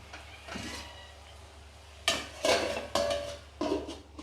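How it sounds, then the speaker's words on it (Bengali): A metal lid clanks onto a cooking pan holding prawns and Malabar spinach, several close, sharp metallic knocks and rattles in quick succession as it settles, after a quieter stretch of faint kitchen handling. "আমি এটা একটুখানি এখন ঢাকা দিয়ে রেখে দেবো"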